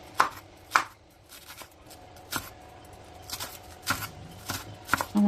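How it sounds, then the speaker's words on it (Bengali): A knife chops kalai greens (shak) fine on a board, with sharp, separate strikes spaced irregularly, some louder, and faint room noise between them. "আপনারা চাইলে বটি দিয়েও কাটতে পারেন, আমি চাকু দিয়ে কুচি কুচি করতেছি।"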